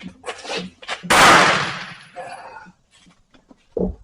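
A VZ52 rifle fires a slightly long round that blows powder, giving one loud, sharp, ringing blast that fades over about a second, with clicks and handling noises before and after.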